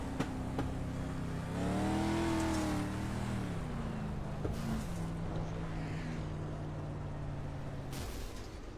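A dirt street stock race car engine keeps running in a racing video game, a steady low droning hum with rising and falling revs, loud and alone, with no talk.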